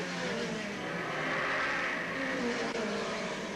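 Hot rod race cars at Ipswich in 1984 roar past in a sustained, loud engine drone. The sound swells and eases slightly, with no distinct impacts standing out.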